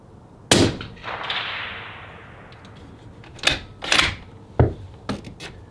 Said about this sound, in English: Oh, I hit my plate and proceeded to knock it right off the stand down there.